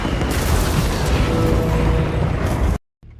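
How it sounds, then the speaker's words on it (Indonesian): A ship blowing apart after being struck by cannon fire in a film battle scene, a dense, loud sustained roar of blast and debris lasting nearly three seconds before cutting abruptly to a faint tail. "meledak dan hancur seketika."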